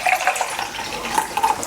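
An espresso machine's steam wand purges water in a steady, loud hiss and sputter, close by and without speech.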